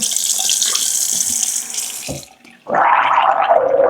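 A kitchen tap runs hard into a sink, cuts off briefly, then gushes again with a fuller, lower splash.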